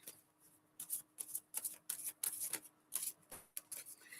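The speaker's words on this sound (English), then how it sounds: "All right, shuffling these babies, picking up on energy for Leo." Tarot cards are shuffled close up in a quick series of soft riffling, flicking bursts, with no talking.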